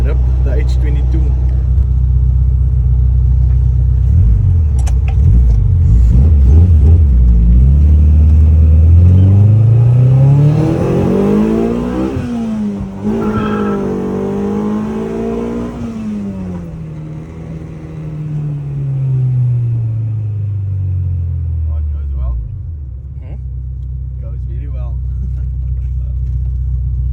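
A Honda H22 VTEC engine revs hard and climbs steeply to a high screaming pitch, holds near the top, then drops back to a steady idle rumble, loud and close-up.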